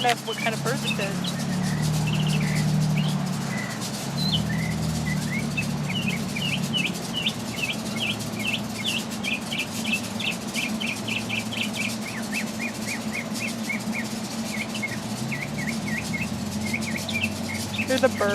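Bird singing from a tree outdoors, repeated bright chirps and tweets over a steady low hum and faint insect buzz, fairly close and continuous throughout.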